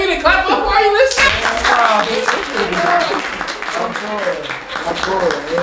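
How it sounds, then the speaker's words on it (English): Clapping in a podcast studio after a shout-out, with a group of people cheering and talking loudly over it, close and lively throughout. "Can we get a clap up for Are You Listening?"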